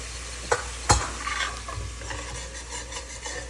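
A Maharashtrian tempering of curry leaves, asafoetida and turmeric sizzles in hot oil for misal, with two sharp clanks of the spoon against the pan, then steady frying and stirring.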